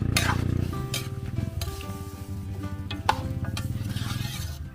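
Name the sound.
stirring spicy chicken adobo with coconut milk in pot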